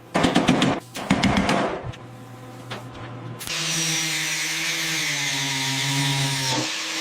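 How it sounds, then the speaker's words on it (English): A grinder smooths a welded metal patch on the body of a Buick Skylark under restoration: rapid rattling bursts first, then a sustained high, harsh whine that holds steady for several seconds. "Grinding it smooth."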